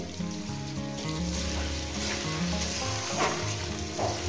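Salted potato pieces frying in a pan, a loud, close, continuous sizzle with occasional stirring scrapes, no voices.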